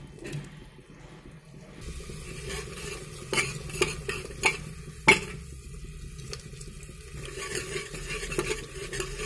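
Masala of tomatoes and spices being stirred with a spoon in a pan while cooking for arbi (taro root) curry, a steady soft sizzle under a series of scraping, knocking spoon strokes against the pan, close and clear with no voices.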